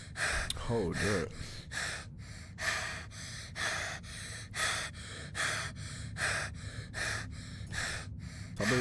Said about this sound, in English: Why are you breathing so damn hard?